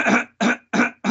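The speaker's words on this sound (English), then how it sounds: "Excuse me, clear my throat." A man clears his throat three times in quick succession, each a short, harsh, close rasp followed by a brief pause, the start of a fourth cut off at the end.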